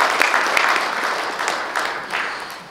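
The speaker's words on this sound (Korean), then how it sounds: "박수 한번 부탁드리겠습니다" An audience applauds at a results-report ceremony for the 2022 Goesan World Organic Industry Expo, a sustained, even burst of many people clapping close by with small swells in intensity.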